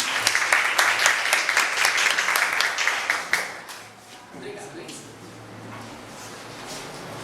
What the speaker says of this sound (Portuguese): com uma salva de palmas,